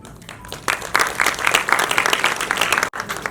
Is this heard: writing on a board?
no